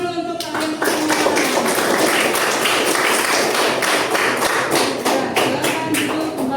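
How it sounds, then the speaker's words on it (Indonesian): A classroom of students applauding together, loud dense clapping that starts abruptly and continues steadily throughout, with faint voices mixed in. "tepuk tangan dulu untuk kalian semua"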